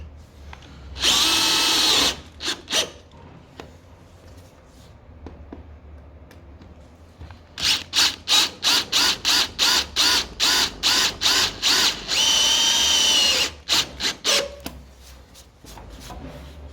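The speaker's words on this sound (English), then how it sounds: "Then I basically place them in the hole, screw them down." A power drill drives screws into a wooden rear deck being built on a skoolie, with long loud whirring runs, then a quick series of short rhythmic bursts, close up.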